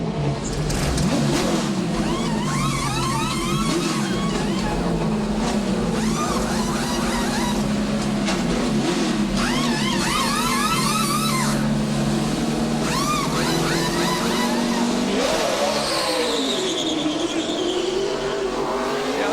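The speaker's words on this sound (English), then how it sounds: "As here comes Jeff Gordon, we're going to give you the sounds of speed for his pit stop" A NASCAR Sprint Cup car makes a pit stop during qualifying for the All-Star Race: a loud, close V8 rumbles and revs with rapid air-gun whirs and crew clatter, then the engine roars away as the car accelerates off.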